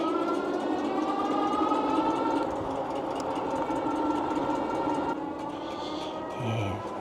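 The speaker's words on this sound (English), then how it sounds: "hear that front rotor up there scrubbing" Front brake rotor scrubbing on a dual-motor 48V eBike while riding, a continuous tonal rubbing whine over steady road and motor noise that persists throughout.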